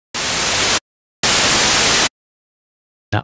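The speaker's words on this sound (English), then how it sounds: "let's just use some white noise." Two steady bursts of white noise from a Retrologue software synth in Cubase, each lasting under a second, separated by silence, with a brief third burst at the end; loud, harsh and hissy with no voices.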